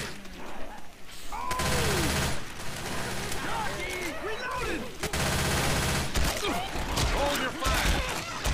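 Heavy gunfire in the zombie shooter Left 4 Dead 2, with sustained rapid shots and loud bursts over chaotic game noise, mixed with voices and shrieking creature sounds.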